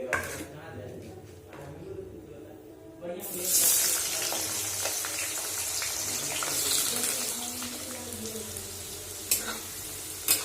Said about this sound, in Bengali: এখন আলু ভেজে নেব।